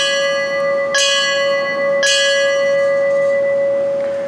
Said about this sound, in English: For all members of the fire service we have lost, we toll the bell.